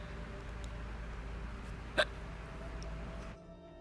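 A single short, sharp hiccup sounds once near the middle over a steady low background hum, playing a skeleton character's hiccup.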